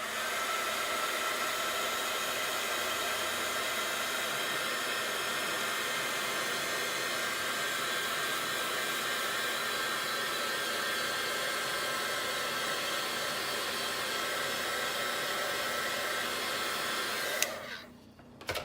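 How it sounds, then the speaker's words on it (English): A heat gun blows a steady, loud, continuous whoosh while drying a handmade Easter card, holding unchanged for about seventeen seconds before cutting off abruptly. "I'm going to dry those real quick with my heat gun"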